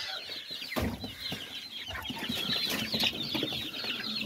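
Chicks and chickens in a brooder house cluck and peep constantly, with bright overlapping chirps close by and a few scuffling knocks.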